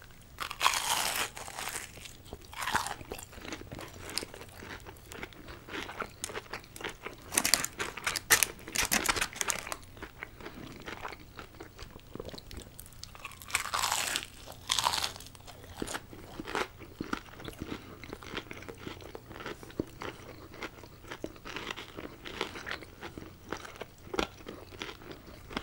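Large shrimp from a roast beef surf and turf combo meal are eaten close to the microphone, with repeated crisp crunches and wet chewing in uneven bursts over about 26 seconds and no talking.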